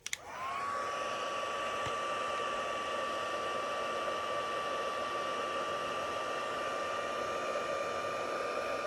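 A heat tool sets white embossing powder on a Valentine's purse card: a click, then a loud, close, continuous blowing hum with a steady high whine that runs unbroken to the end, with no voices.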